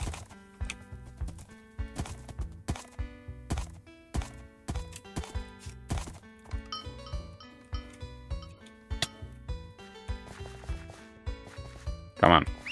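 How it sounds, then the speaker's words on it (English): Distinct, evenly spaced clip-clop hoofbeats of a horse in the video game Wynncraft, close and fairly loud, with a brief splashy burst near the end. "Come on, horse."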